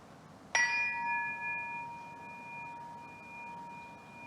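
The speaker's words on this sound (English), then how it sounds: "at the end of the third sound, third bell ring, you can slowly open your eyes" A meditation bell is struck once in a quiet room. A clear, bright ding rings out and its pure tones hang and slowly fade over several seconds, with no voices.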